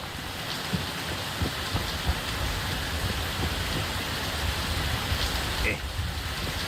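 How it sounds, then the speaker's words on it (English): Acid rain in a video game pours down as a steady, dense hiss with scattered soft taps and clicks, loud and continuous throughout. "Don't let the acidic rain touch your flesh."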